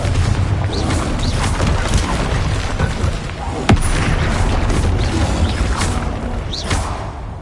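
Repeated Confringo blast spells burst and boom in Hogwarts Legacy amid continuous dense combat noise, with a sharp crack near the middle and no clear talk.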